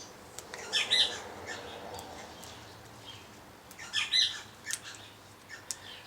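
Outdoor birds squawk and chirp in two short clustered bursts a few seconds apart, moderately close over faint background ambience, with a few scattered lighter calls between.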